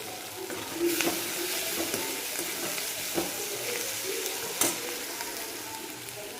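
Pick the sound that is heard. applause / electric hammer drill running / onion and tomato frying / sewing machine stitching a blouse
onion and tomato frying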